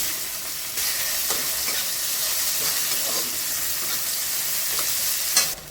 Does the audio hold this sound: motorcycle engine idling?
no